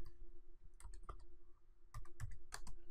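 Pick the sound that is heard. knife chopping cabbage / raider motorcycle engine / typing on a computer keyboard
typing on a computer keyboard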